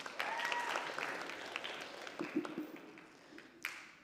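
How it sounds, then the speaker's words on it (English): Applause rises faintly from an audience at a high school film festival, a soft wash of clapping that thins out and fades toward the end with a few isolated claps. "let's give them another round of applause"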